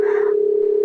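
Phone ringing tone in the Sakura School Simulator video game, a steady, clear electronic tone held unbroken and loud, with a brief higher blip at the start.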